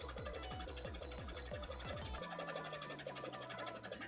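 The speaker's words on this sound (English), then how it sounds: "I'm just doing some hem work on the bottom for a petticoat." Sewing machine stitching a hem along the bottom of a cosplay petticoat, a rapid mechanical chatter that runs briefly then stops, leaving a low hum under faint room noise.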